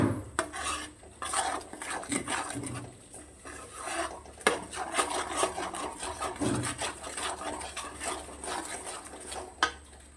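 Drumstick and potato curry roasting in a pan, with repeated close scrapes and clinks of a spatula against metal over a low sizzle, stirring in uneven bursts.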